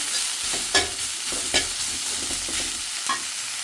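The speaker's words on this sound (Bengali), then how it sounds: "সরিষা শাকটা খাওয়ার জন্য ভাজা হয়ে গেছে" Mustard greens fry in a pan with a steady soft sizzle, and a spatula scrapes and stirs them in a few distinct strokes, fairly close with no talking.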